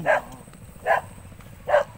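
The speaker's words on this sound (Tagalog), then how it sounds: "May aso pala kayo dito no?" A dog at a fish farm gives three evenly spaced barks, moderately close, over a low background hum.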